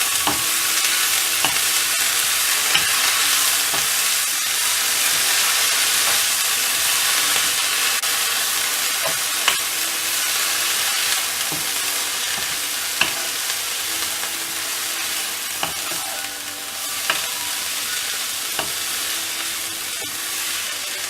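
Ponnanganni (dwarf copper leaf) greens stir-fry in a hot pan with a steady, close sizzle across the whole stretch, broken by frequent light scrapes and taps of a spatula, and no voices.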